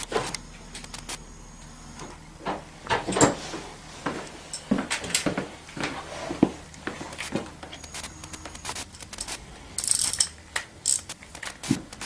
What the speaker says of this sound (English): Into 13 and a 14 millimeter ratchet.